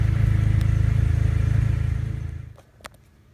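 A BMW E30 M3 with an S54 engine drives by, its low engine drone loud and close for about two seconds, then quickly fading into quiet with a few faint clicks.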